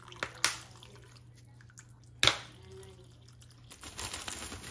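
Fish sauce (patis) is poured into a pot of pork bone soup, nilagang buto-buto, making a few quiet splashes and drips against a faint background hum.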